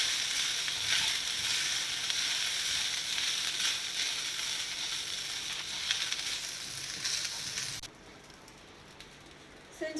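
Cooked basmati rice being stirred in a hot pan for jeera rice, a steady loud sizzle and frying crackle that runs throughout, then drops abruptly to a faint hiss near the end.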